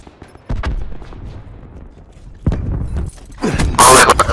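Gunshots in the video game Black Ops 4 land as a few sharp, loud reports spaced a couple of seconds apart, ending in a dense burst of close fire.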